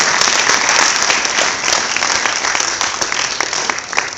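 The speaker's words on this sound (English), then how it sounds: "Give her a huge round of applause" Sustained audience applause at an after-prom show, dense and steady clapping from a sizable crowd, fairly loud and close, with a few sharper claps standing out.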